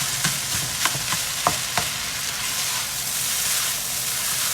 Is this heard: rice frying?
yes